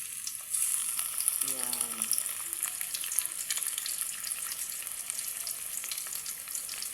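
Flour-coated milkfish (bangus) sizzles steadily in hot oil, a continuous bright crackle close by, with a brief spoken word near the start.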